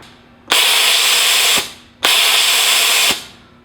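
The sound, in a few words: standard size water mister spraying water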